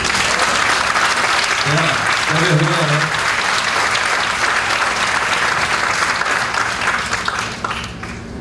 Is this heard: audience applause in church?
yes